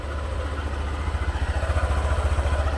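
A Honda ADV 150 scooter engine idles just after starting, a quiet, close, evenly pulsing low putter that settles into a steady rhythm.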